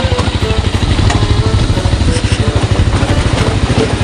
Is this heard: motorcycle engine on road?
yes